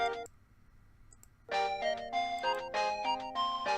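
A phone rings in the Steins;Gate video game, a bright melodic ringtone of chiming electronic tones that starts suddenly and plays loud and steady after a quieter opening beat, with no talking.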